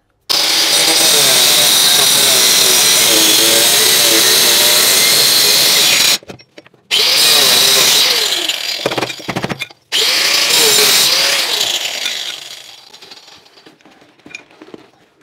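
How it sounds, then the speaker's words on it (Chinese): An angle grinder cuts into a flue pipe for an integrated stove, giving a loud, close, high whine that runs steadily, stops twice briefly, then starts again and winds down toward the end. "角磨机可以再往里面切一点，让里边这个角度呢切得再宽一点"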